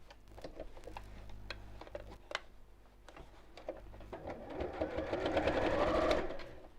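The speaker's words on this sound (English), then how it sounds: "we'll sew that close to the edge again" A sewing machine stitches a bag close to the edge, starting with faint clicks and ticks before a steadier, louder run of stitching builds near the end.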